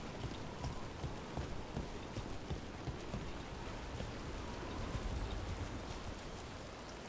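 Steady rain hisses and patters across the whole clip in a Dragon Age: The Veilguard game scene, an even, dense wash of drops at moderate level with no talk.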